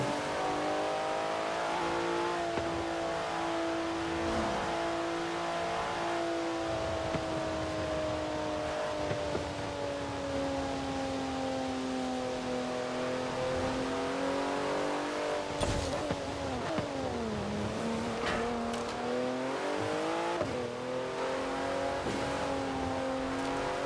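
A car drives in Forza Horizon 4 during a cops-versus-racer chase, a steady engine drone whose pitch rises and falls as it accelerates, with a sharp dip and brief tyre noise partway through.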